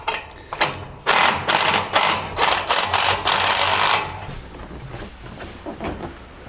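A ratchet wrench clicks through a rapid series of tightening strokes on the bolts of a MegaSport Overland tent trailer during assembly, loud and close, then fades to a few faint ticks.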